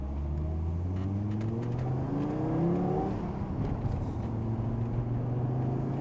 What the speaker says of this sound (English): Just sounds like a standard coupe.